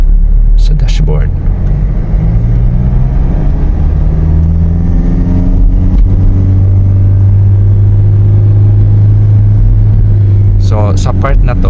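Automatic car's engine revving in sport mode, a loud, steady low rumble with rising harmonic tones as RPM climbs and holds, with brief higher bursts at the start and end.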